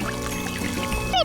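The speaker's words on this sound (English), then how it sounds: "Add water." Water poured during miniature cooking of a Korean spicy baby octopus stir-fry, a brief pour lasting about a second under steady background music.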